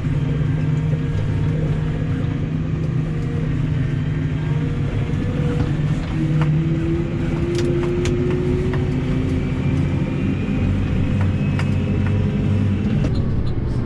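A Case IH Puma 175 CVX tractor drones steadily from inside the cab, a loud continuous engine hum with a faint rising tone as it picks up speed, no voices.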